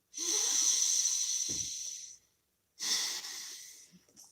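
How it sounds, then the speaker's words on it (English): Two long, close breaths, a deep hissing inhale followed after a short pause by a second breath, with no talking. "Nice deep breath."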